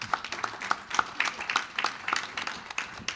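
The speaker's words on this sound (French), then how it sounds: "applaudissements" A modest audience at an equestrian federation congress claps, fairly faint scattered applause with some distinct individual claps and a few sharp accents.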